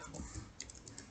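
Light keystrokes on a computer keyboard, a handful of faint, quick clicks spaced unevenly in the second half, set against a quiet room hum.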